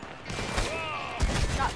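Shotgun fire in Red Dead Online: dense, loud gunfire bursts in a busy in-game firefight, with a heavier blast near the end over the game's music and effects.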